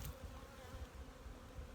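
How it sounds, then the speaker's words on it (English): Honey bees swarming around hives moved back out to a yard, a dense, continuous buzzing drone of many wings nearby, steady and fairly faint with no voices. "Look at the bee flight."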